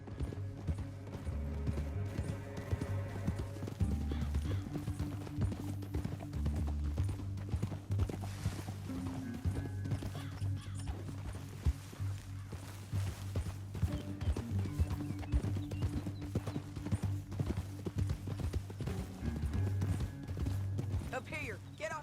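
Horse hooves clip-clop steadily while riding in the Western video game Red Dead Redemption 2, carrying on under game music and spoken dialogue for the whole stretch.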